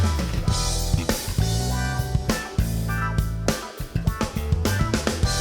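A 1990s MTD bass guitar on a full band track, punchy plucked low notes and bends driving along under drums and other instruments, dense and loud throughout.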